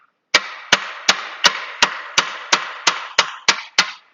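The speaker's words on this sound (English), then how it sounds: "Let's tap this dowel pin again." Eleven sharp metallic taps sound at an even, slightly quickening rhythm as a dowel pin is tapped on a 2016 Nissan Altima CVT transmission during a rebuild, each strike close and loud with a short ring.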